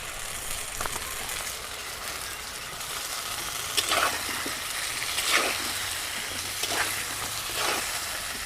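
Onion paste frying in hot oil in a pan for a fish curry, with potatoes already fried in it: a steady broadband sizzle that runs throughout, with a few louder bursts as the paste is stirred. No one speaks.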